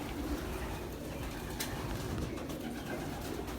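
Pigeons coo steadily at a Chicago-area loft, a low continuous burble of several birds close by over a dense background hum, with no talking.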